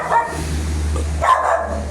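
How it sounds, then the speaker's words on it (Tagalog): A dog barks nearby in a flooded neighborhood, giving two loud yelping barks about a second apart over a steady low hum of a motor. "Ingay ng aso."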